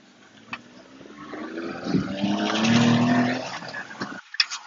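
A 1995 Suzuki 4x4 Japanese mini truck turning around in a U-turn, its small engine revving and rising in pitch with a brief tire squeal near the middle, heard close without any talk.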